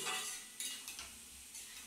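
Sliced potatoes and eggs sizzle in a pan while a spatula stirs and scrapes in short bursts, close and bright, with no voices.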